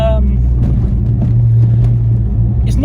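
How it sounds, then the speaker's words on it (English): A following BMW car's engine rumbles steadily nearby with a deep, continuous drone, and a muffled voice sits faintly beneath it. "As you can hear, Tomo's behind me in the BM as well."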